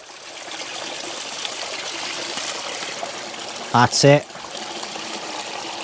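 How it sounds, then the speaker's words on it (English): Water gushes briefly into a hanging bushcraft water bag at a wild camp in the Scottish Borders, two quick close splashing bursts after a stretch of steady outdoor background, with someone speaking briefly. "now it's time to get it filled up as much as we can"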